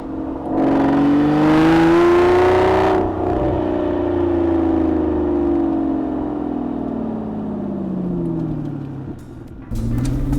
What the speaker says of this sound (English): on a downshift, you get that gargling, just greatness coming from the back of the car.